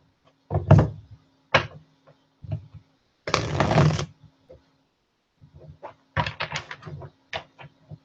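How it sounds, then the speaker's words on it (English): Tarot cards being shuffled by hand produce close, irregular bursts of papery riffling and soft knocks, with one longer riffle in the middle and quiet gaps between handfuls, no talk. "Let me shuffle now for Taurus."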